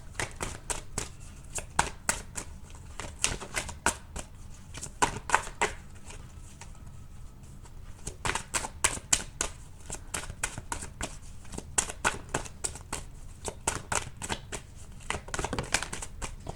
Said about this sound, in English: Keep dropping too many cards. Let's pull one more card.